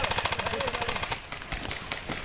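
An airsoft gun fires blindly in rapid, evenly spaced full-auto bursts during an airsoft game, the sharp close-range clatter running almost continuously, with faint voices in the background.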